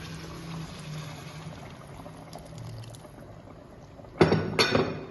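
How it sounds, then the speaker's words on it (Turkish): Water poured into a pot over carp for Akşehir carp soup, a quiet trickle and low rumble giving way to two loud splashing pours near the end. "Şimdi balıkların üzerini suyla birleştiriyoruz."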